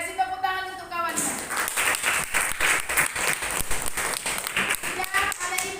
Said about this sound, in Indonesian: Oke, kasih tepuk tangan untuk kawannya.